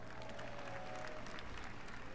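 An audience at an Xbox E3 conference applauds, a steady faint wash of crowd clapping heard at a distance, with a thin tone running beneath it.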